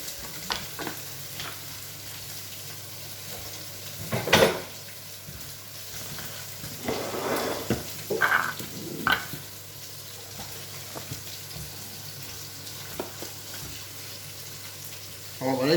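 Fish frying in a pan on a home stove gives a steady soft sizzle throughout, with occasional louder clatters of utensils and pan handling, fairly quiet overall.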